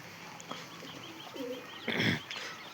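Pigeons in a loft give a few soft, low coos close by, mixed with brief rustles and a louder flutter of movement.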